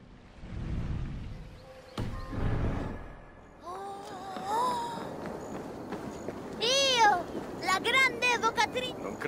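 A cat meows several times in a row in Assassin's Creed Valhalla, high and wavering, after a stretch of low speech; some footsteps and rustling sit underneath.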